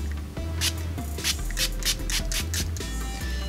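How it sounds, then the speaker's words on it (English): A BABYPEACH toner mist spray bottle is pumped in quick succession, giving about eight short, hissing spray bursts over a low, steady background hum. "So let's just give it a spray."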